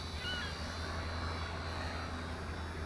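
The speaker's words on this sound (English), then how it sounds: "Just a really nice, smooth flying helicopter." A WLtoys V931 six-channel RC helicopter flies steadily, its motor and rotor giving a continuous, even whir with a low hum at moderate distance and no talking.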